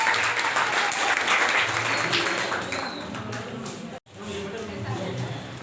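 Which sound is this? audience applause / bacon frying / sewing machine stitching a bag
audience applause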